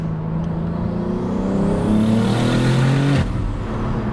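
BMW G81 M3 Touring with an 800 hp single-turbo engine on stock motor and gearbox, accelerating hard: a loud, steady engine roar climbing in pitch for about three seconds, then cutting off abruptly.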